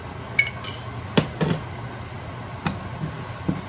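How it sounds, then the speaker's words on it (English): A metal spoon clinks against a pan as seasoning is stirred into cooking meat, with a few sharp, scattered clanks over a quiet background. "So I just added my seasoning right to the meat"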